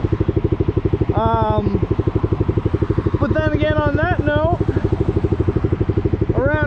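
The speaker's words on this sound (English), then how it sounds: "I do absolutely love the sound of the exhaust" A motorcycle fitted with an SC Project exhaust idles close by in a steady, throbbing pulse that runs the whole time, while someone talks over it.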